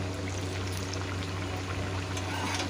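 A dense, even sizzle of dal puri frying in hot oil in a kadai, steady and close throughout, with no talking.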